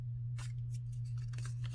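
Scissors trimming threads on a hand-stitched journal, a few quick close snips over a steady low electrical hum.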